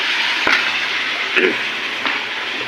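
Steady, dense sizzle of chicken frying in a hot pan, with a few soft clicks and scrapes from stirring rising above the hiss.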